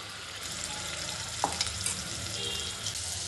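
Spice paste frying in hot oil for aloo paratha filling, a steady close sizzle with a few light clicks of stirring.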